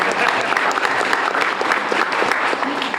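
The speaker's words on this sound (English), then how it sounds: "So let's give Jamie a round of applause." A crowd at the reopening ceremony of Oakland's main library claps for an honoured longtime staff member, a dense, steady round of applause that fills the whole stretch at close range.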